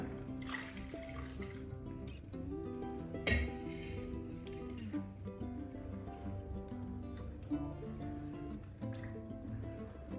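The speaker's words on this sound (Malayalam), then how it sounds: "ഇളക്കി ഇത് കൈവിടാണ്ട് ഇളക്കി കൊടുക്കണം." A spoon works through thickening coconut milk batter for kinnathappam in a pan on the stove, with a soft, steady sizzling bubble and a few scraping knocks against the pan, faint and continuous.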